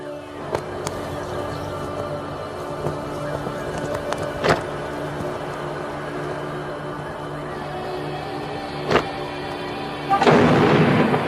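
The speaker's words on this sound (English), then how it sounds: "What you heard right behind you was the sound of Bofors guns" Indian Army Bofors artillery guns firing: a few sharp, distant booming reports spaced several seconds apart over a steady background hum, ending in a heavier, rumbling burst.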